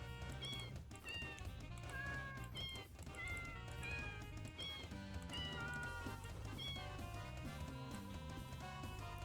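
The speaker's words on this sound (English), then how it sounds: "Oh, it's these cats!" Cats meowing in the video game Deltarune, a string of short, high meows repeating over busy background game music, fairly prominent and close throughout.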